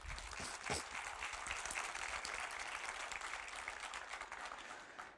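A church congregation applauds steadily for about five seconds, a dense wash of clapping that tapers off at the end.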